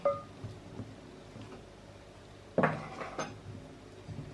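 Soft scraping and clinking of a utensil against a bowl while mixing baking powder and salt into dry ingredients for low-carb bread rolls, with a louder clatter partway through, close by and otherwise quiet.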